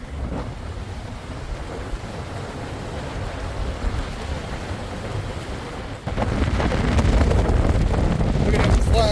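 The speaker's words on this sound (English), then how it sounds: "Really, really windy." Strong wind roars across the microphone outdoors at a zoo with flags flapping, a constant broadband rumble and buffeting that swells louder partway through, with no voices.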